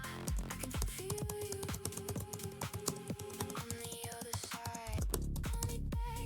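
Rapid keystrokes on a computer keyboard as a video prompt is entered, a steady close clatter of clicks with uneven rhythm and brief pauses, no voices.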